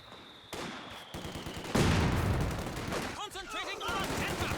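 Machine gun fire in the World War II strategy game Company of Heroes 2, with bursts of automatic shooting and heavier blasts building into a dense battle din, as chirping unit sounds appear near the end.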